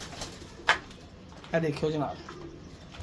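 Pigeons kept in a loft coo in a few soft, throaty bursts near the middle of the clip, with someone speaking over and around them.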